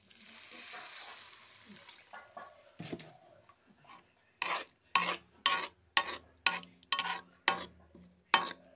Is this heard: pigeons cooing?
no